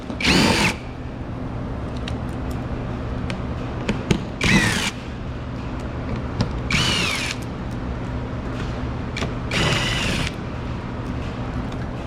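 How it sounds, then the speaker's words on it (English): A power tool spins out 10mm bolts on a 2020-2024 Nissan Sentra during an alternator replacement, with several loud whirring bursts separated by quieter gaps and small clinks of metal. "we can go ahead and remove these 10mm bolts"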